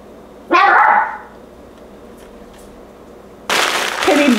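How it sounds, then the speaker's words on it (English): A dog gives two loud, close barks about three seconds apart, the second longer and harsher, with a quiet room in between. "And barking at Shadow."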